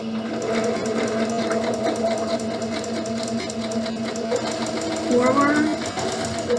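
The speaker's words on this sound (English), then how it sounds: "I'm going to go back and forth quite a few times just to make sure my elastic has been secured." A sewing machine stitches back and forth over elastic while making a scrunchie, a steady rapid mechanical whirr running throughout, close and fairly loud.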